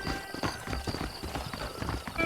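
Rapid clip-clop of horse hooves from the video game Red Dead Redemption, a dense, steady galloping rhythm with a brief whinny, close and clear, with no talking.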